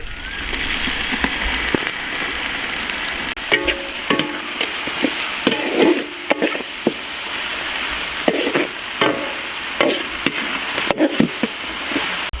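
Green chili and garlic fry in oil for a Pakistani-style mutton karahi, a constant sizzle broken by frequent stirring scrapes and clacks of a spoon against the pan, loud and close.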